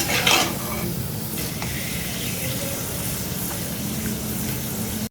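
Food frying in a pan, maybe papad, a steady close hiss and crackle of hot oil running throughout, with a brief clatter near the start and no speech.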